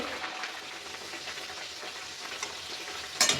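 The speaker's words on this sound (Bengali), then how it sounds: "তেলটা আমার গরম হয়ে গেছে আমি একটুখানি দিয়ে দেখে আমি এটা ছেড়ে দেবো" Thick batter hisses and crackles as it fries in hot oil, a close, steady sizzle with a small clatter near the end.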